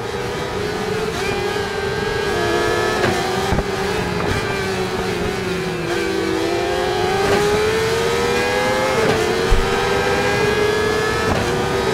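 Motorbike engines in the racing game RIDE 4, a continuous high revving whine with rising and falling pitch as the bikes accelerate and shift, loud and steady throughout with no talking.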